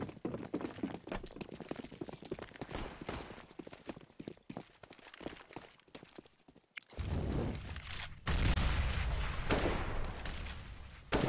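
Gunfire in a Counter-Strike esports match, bursts of rapid shots crackling through the first half, then louder sustained noise of firing and game action, dense and close with no clear talk over it.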